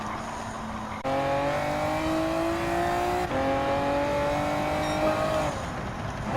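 A Honda NSX Type R '02 race car in Gran Turismo 7 drones loud and close on the Nurburgring Nordschleife, its engine pitch climbing steadily through long gears with sharp shift breaks.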